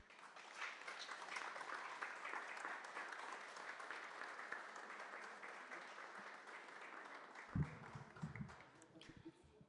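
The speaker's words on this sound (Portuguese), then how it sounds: "peço agora um aplauso para António José Matos" Applause from the audience at a local Socialist Party branch candidacy event in Azambuja, steady massed clapping that stays fairly quiet and distant for most of its length, with a few sharper knocks near the end.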